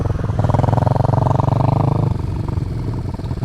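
Motorcycle engine at low speed in a field during slow practice turns, a steady throbbing idle-like putter with even pulses, close and loud, easing slightly toward the end.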